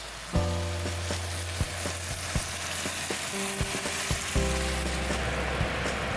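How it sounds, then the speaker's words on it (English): Green beans and carrots stir-frying in a pan, a steady close sizzle with a few clattering knocks and scrapes from stirring, plus a low electrical hum beneath, no voices. "Next item we're adding is the green beans and the carrots. Stir it up a little bit with about 2 minutes"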